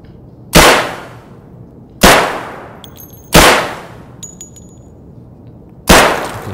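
Gunshots ring out inside a quiet factory in Escape From Tarkov: four loud, close, sharp reports spaced about a second and a half apart, each with a long metallic echo and faint clinking after.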